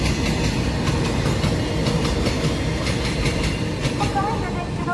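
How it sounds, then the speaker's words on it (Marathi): The Maharashtra Express rolls along a crowded railway platform with a steady, loud rumble and clatter of wagons that lasts throughout, while voices murmur underneath. "हे येत आहे ट्रेन, ही आहे महाराष्ट्र एक्सप्रेस."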